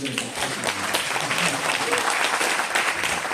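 Audience at a Korean lecture on North Korean defector families claps in welcome as the speaker comes forward; dense, steady applause fills the room without a break.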